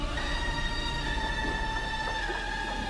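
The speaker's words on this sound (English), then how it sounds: "Hey, there's a train." A passing train in the Switchback VR roller coaster game gives a steady rumbling rail noise with sustained metallic tones throughout, moderately loud and with no talk.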